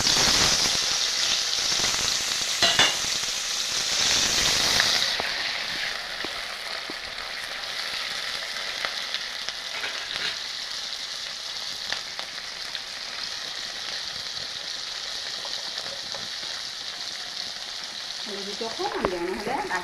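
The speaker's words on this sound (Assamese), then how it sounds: "পনীৰখিনি ভাজি লওঁ।" Paneer fries in oil in a pan with a bright, crackling sizzle, loudest at first and settling into a steadier hiss, with occasional spatula scrapes and brief sounds of handling near the end.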